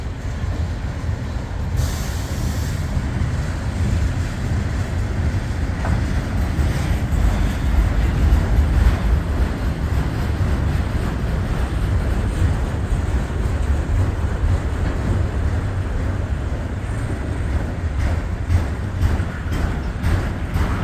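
A Norfolk Southern freight train of auto rack cars with a tanker in between rolls past north of Findlay, Ohio, a loud, close, continuous rumble and clatter of wheels that holds steady for the whole stretch.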